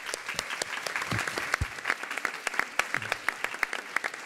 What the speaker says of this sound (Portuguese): a gente queria pedir uma salva de palmas para esses empreendedores